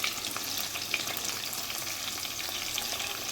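Sliced onions, cut thin and long for biryani, frying in a pan with a dense, constant hiss and a few faint stirring taps, close and fairly loud.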